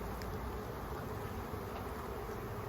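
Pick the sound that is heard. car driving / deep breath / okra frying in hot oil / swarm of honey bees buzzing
swarm of honey bees buzzing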